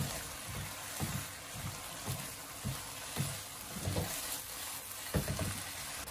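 Tofu skin and chopped celery being stir-fried in a wok, giving a steady low sizzle with rhythmic scraping and tossing strokes about once a second, close and moderately loud, no voices.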